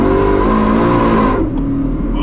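A 1200hp truck accelerates hard with the air conditioning on, its loud engine roaring up through the revs in a continuous, close, powerful pull with no talking.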